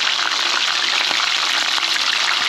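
Tilapia deep-fries in hot oil, a loud, dense and steady bubbling sizzle heard close up with no pauses and no voices.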